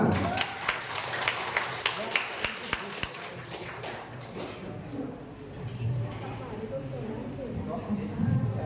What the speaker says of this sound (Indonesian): tepuk tangan lagi untuk Regu A